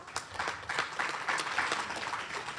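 An audience at a panel event on minimum wage gives a short round of applause, moderately faint, with scattered individual claps standing out in an even patter.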